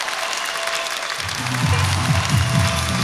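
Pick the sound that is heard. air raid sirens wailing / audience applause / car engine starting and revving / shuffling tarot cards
audience applause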